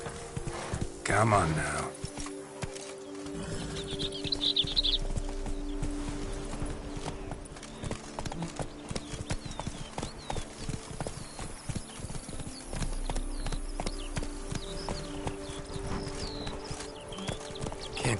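Horse galloping in The Witcher video game: rhythmic hoof clip-clops run steadily throughout, with a brief whinny early on and in-game voices talking over the hoofbeats.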